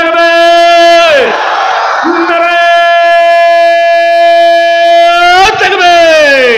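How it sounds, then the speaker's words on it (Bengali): Large crowd at an Islamic religious gathering in Bogura chanting the takbir, a loud sustained massed shout with a steady held pitch, briefly dipping and then swelling again near the end. "এই তাকবীরের ধ্বনি এই মজমার মধ্যে আমরা এর আগেও দিছি"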